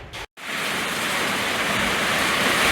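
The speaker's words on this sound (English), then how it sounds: "So here comes the rain." Rain sets in over a farm, a loud, dense, continuous hiss that briefly cuts out near the start before swelling steadily.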